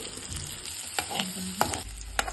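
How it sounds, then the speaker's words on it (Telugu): Onions frying in a pan with chili powder added, a close, steady sizzle broken by a few sharp scrapes of stirring, alone without talk. "ఉల్లిపాయ వేగిపోయింది, ఆనియన్ వేగిపోయింది."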